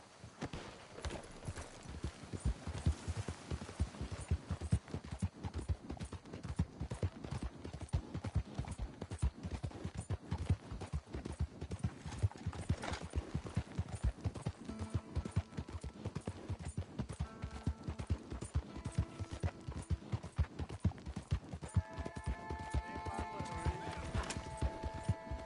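A horse's hooves clip-clop in a quick, steady rhythm for a long stretch, with whinnies and neighs breaking through near the end, fairly close, at moderate volume and with no speech.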